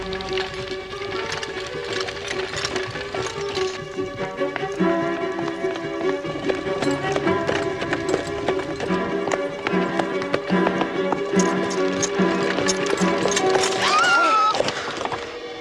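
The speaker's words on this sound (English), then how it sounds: "Stop that horse." Horse hooves clip-clop in a quick running rhythm over a dense bed of dramatic orchestral music, steady and fairly close throughout.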